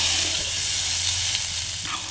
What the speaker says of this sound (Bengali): প্রপার জাল যেটাকে বলা হয় সেটা দিয়ে হচ্ছে আলুর ভাজা